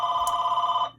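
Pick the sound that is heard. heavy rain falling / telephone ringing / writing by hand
telephone ringing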